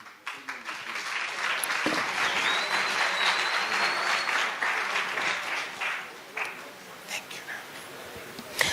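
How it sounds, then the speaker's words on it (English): Audience applause fills the room, a steady wash of clapping that holds for several seconds before thinning into scattered claps near the end. "A round of applause for Mr. Sena."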